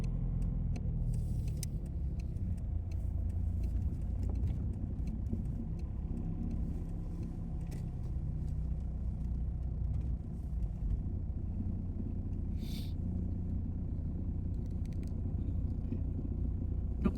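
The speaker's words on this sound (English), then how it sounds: "it is heavy traffic today" Heavy Saturday road traffic heard from inside a car driving through Pigeon Forge on a parade weekend, a continuous low engine and road rumble with occasional faint clicks, steady and close, with no talk.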